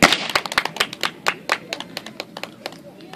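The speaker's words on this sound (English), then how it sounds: "Let's clap." A small group of people clapping in scattered, uneven bursts, close and crisp, with sharp individual hand claps fading over a few seconds.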